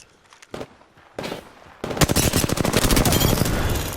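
Gunfire in Apex Legends: a couple of isolated shots, then a sustained rapid automatic burst, loud and close with a steady rattling rhythm.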